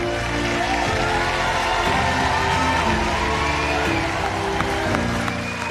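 Family and friends in a cooking-competition studio cheer and applaud continuously, a steady wash of clapping with whoops and shouts layered over a dense crowd roar.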